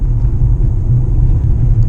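Aldi truck rolling past on a highway, a loud, steady low rumble heard from close range inside a moving car, with no voices.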